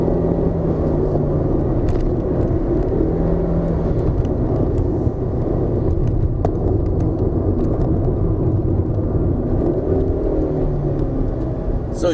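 A 2019 Proton Persona with a CVT climbs Genting hill with a steady, loud low engine drone and road rumble heard from inside the cabin, continuous with only faint ticks on top.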